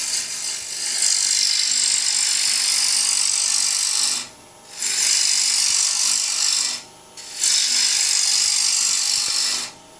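A wooden bowl spins on a lathe as a cutting tool strips away excess wood, a steady hissing scrape running in long passes broken by two brief pauses.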